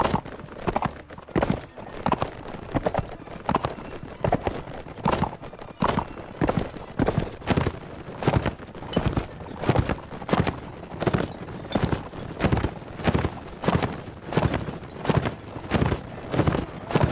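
Horse hooves clip-clop steadily in a Mount and Blade Warband siege battle at a castle, a fast rhythmic gallop of repeated hoofbeats running throughout, loud and close, with no talk over them.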